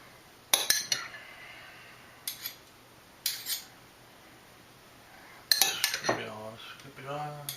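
A utensil scoops sauce onto loaded nachos, giving several separate metallic clinks and scrapes against a dish, spaced irregularly, with quiet handling sounds between them.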